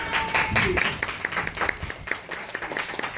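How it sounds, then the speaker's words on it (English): A small group at an alligator park show in Natchitoches, Louisiana claps for a few seconds, a loose scatter of overlapping hand claps without cheering. "So what about a round of applause for our feeders?"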